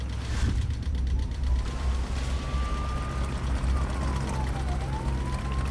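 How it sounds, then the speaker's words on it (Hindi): A faint police siren wails in the distance, its pitch rising and falling once over a low, steady rumble of background noise. "हमें पुलिस सायरन बहुत दूर से आता सुनाई दे रहा था।"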